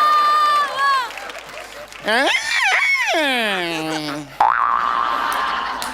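A man on stage at a Marathi comedy show vocally imitates a creaking door, with long rising and falling squeaky tones, while other voices and crowd noise come in around it.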